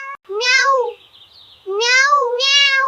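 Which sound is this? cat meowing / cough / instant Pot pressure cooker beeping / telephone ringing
cat meowing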